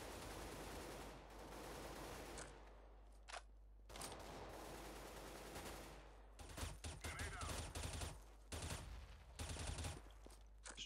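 M4 rifle fire in Counter-Strike Global Offensive, rapid bursts of gunshots separated by short quiet gaps, fairly faint overall, with players talking over it.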